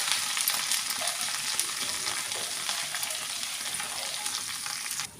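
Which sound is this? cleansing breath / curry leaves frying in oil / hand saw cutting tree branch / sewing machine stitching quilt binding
curry leaves frying in oil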